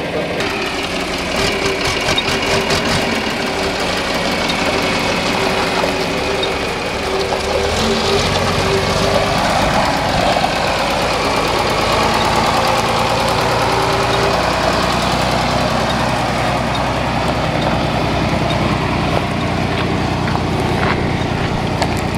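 An old farm tractor, first driven again since 1976, runs with a loud rough knocking engine idle, steady rumbling throughout with the beat shifting as it picks up, close by and without clear talk.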